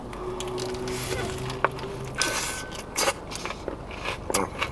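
Crisp crunching bites into fried chicken, several crackly chews and snaps close to the ear, with no one talking.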